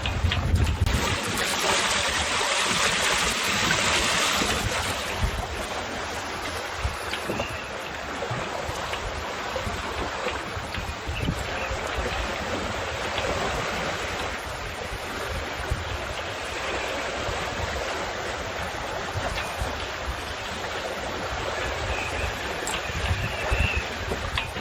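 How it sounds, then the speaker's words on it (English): Wind rushes steadily past a MacGregor 26 sailboat, and water hisses and washes along the hull in a continuous, fairly loud wash with no talk. "Wind's picking up now."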